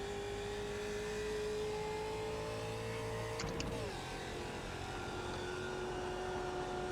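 Production race car in iRacing at Bathurst held at full throttle, a steady sustained engine drone that dips briefly with a short mechanical shift before settling again, with no talk.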